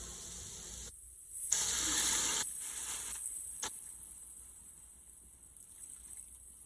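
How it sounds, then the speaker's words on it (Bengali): Milk poured into rice frying in a pan, a hissing gush that swells for a couple of seconds then fades into a quieter sizzle, close and moderately loud with no talking. "তো আমি এখন পরিমাণ মতো দুধ দিয়ে দিব।"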